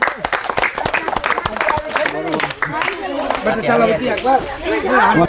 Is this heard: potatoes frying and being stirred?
no